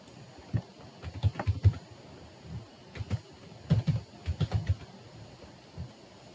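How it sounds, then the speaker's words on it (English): Typing on a computer keyboard to enter a command for a password security lab, with irregular bursts of quiet keystrokes and short pauses, no speech. "we're going to go ahead and type in our command here."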